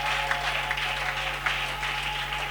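Church congregation applauding during a worship service, a steady dense wash of clapping with a few sharper bursts, moderately loud against a low electrical hum.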